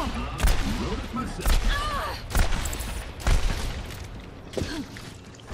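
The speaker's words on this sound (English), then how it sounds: "Enemy turret." An enemy turret fires in the Overwatch video game as a string of sharp, punchy shots at irregular intervals amid game effects, with a voice talking over the action.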